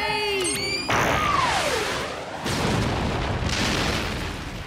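Cartoon torpedo launching and blowing up in an animated kids' show, a whooshing launch with a falling whistle swelling into a loud, sustained rumbling blast that surges again midway, overlaid on brief effects.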